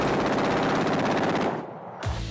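Rapid automatic fire from an AR-15 rifle rattles in a loud continuous burst, then cuts off abruptly into a brief quiet before another sharp report.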